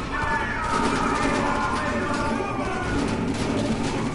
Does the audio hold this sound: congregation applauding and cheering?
no